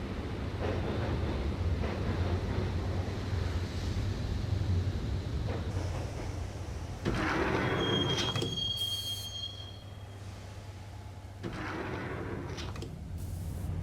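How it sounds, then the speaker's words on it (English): Train ride in the Max Payne video game, with a steady rumble of wheels on track, squealing rails and shifting rattles of the carriage, carried at moderate loudness throughout. "the train doors had already shut behind me, and I was in for the ride"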